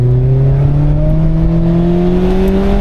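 Mazda Miata engine at full throttle on an autocross course, loud and close, a steady rising drone climbing smoothly in pitch as the car accelerates.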